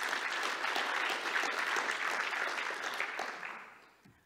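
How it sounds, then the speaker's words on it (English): Audience applause at CiliumCon, a sustained wash of many hands clapping that holds steady, then thins and fades toward the end. "So I think that's another round of applause"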